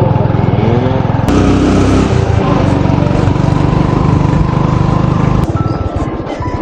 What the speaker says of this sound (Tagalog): Tumatalon-talon yung motor.